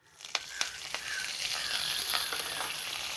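Curry leaves drop into hot oil in a pan while spices roast for a Chettinad egg curry, giving a soft steady sizzle with a few sharp crackles and pops near the start.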